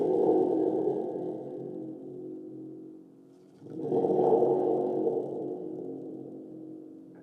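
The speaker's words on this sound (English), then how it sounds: "Bill is up first with Thunder Drum or Thunder Tube." A thunder drum gives two long, boomy rumbles, each swelling and slowly fading with a wobbly, reverberant tail and a brief dip between them.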